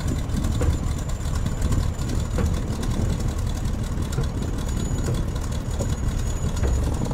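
A PT17 Stearman biplane's radial engine idles at about 700 RPM in Microsoft Flight Simulator, a steady, low, rough rumble with a faint rhythmic knock that holds evenly throughout.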